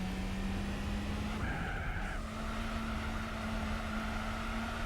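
An Audi TT at the Nürburgring in Gran Turismo 4 drones along at a steady engine pitch, with tire squeal and a brief shift dip midway, loud and continuous.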